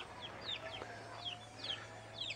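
Free-range chickens and young chicks clucking and chirping in short, repeated high calls, fairly faint over a steady low hum.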